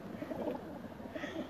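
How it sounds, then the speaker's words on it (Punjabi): Pigeons coo close by in a soft, low, rolling murmur that carries on steadily in a quiet setting, with no talk. "ਬਾਹਰ ਆਏ ਕਬੂਤਰ"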